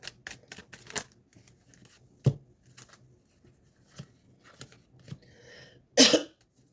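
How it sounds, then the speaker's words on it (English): A person coughs several times in short, sharp bursts during an indoor tarot reading, with a few faint sounds between them and a louder, rougher cough near the end. "Y'all notice how I started coughing?"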